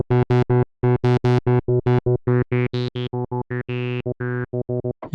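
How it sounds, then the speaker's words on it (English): A run of distorted synth notes, each with a high-resonance filter sweep whose brightness shifts with note velocity, played in a quick uneven rhythm. "you can really hear the tone of the filter changing because we've got high resonance"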